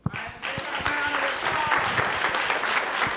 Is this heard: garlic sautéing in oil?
no